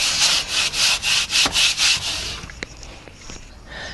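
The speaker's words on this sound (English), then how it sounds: "Oh, that sands really well. Actually, I'm just gonna sand over it." Hand sanding a surface during a motorhome kitchen renovation: about eight steady rhythmic rasping back-and-forth strokes, close and fairly loud, then quieter handling noises and a few small knocks.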